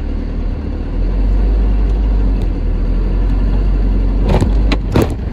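A car engine droning low through its muffler, a loud steady rumble throughout that swells with a revving push near the end, no talk.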